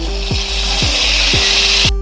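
Raw plantain frying hard in hot oil for sarkara varatti: a loud, steady sizzle with a low swooping tone repeating about twice a second, cut off abruptly at the end.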